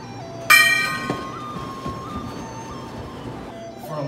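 A mini gong struck once, giving a bright metallic clang that rings on with sustained tones and fades slowly, followed by a few softer knocks and a faint later ding.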